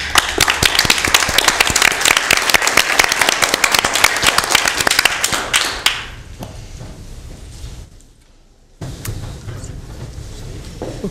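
An audience at a city environmental commission meeting gives a dense burst of clapping that lasts about six seconds. It then fades to a quiet room with faint shuffling.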